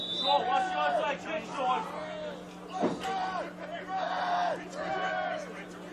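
A crowd member shouts loudly at a high school varsity football game between Xavier and Cardinal Spellman, with several raised yells mixed with nearby talk.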